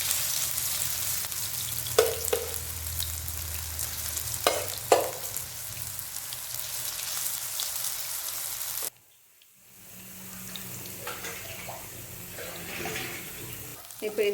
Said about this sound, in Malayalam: നമുക്കിത് കുറേശ്ശായിട്ട് ഇട്ടിട്ട് വറുത്തെടുക്കാം